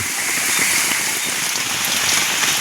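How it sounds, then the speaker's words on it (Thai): Heavy night rain falls in a forest while campers sleep out hunting frogs, a dense, loud and continuous downpour hammering on surfaces nearby with no voices. "ตอนฝนตกนี่"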